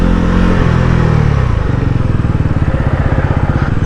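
A Bajaj Pulsar NS400Z motorcycle rides close by in city traffic in Bengaluru, its engine throbbing loudly and then settling into a rapid pulsing beat as it slows for a turn.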